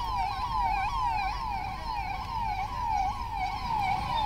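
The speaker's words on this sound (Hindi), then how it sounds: "सायरन बजाकर टिड्डी दल को भगाया गया" A wailing electronic siren sounded to drive off a locust swarm, a loud, steady rise-and-fall warble repeating continuously over a low rumble, no voices.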